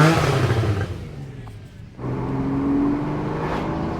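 A Porsche 911 Carrera 4S (991.1) with a naturally aspirated 3.8 litre flat-six boxer engine revs up, dips briefly, then climbs again in a loud, close, rising drone under way.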